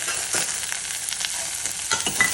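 Vegetables with tomato, bottle gourd and cucumber pieces stirred in a hot pan for soup, a dense close sizzle with quick scraping strokes of a spoon throughout.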